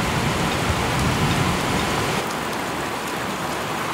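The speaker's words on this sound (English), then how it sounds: "Told you it was raining." Steady rain pours down, a dense even hiss of drops hitting surfaces, loud and continuous with no voices.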